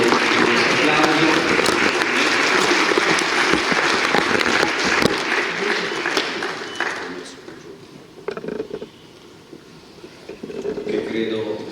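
An audience at a regional assembly of Veneto municipalities applauds steadily as the regional president comes onto the stage. The clapping thins out toward the end, and a few voices and shuffling remain.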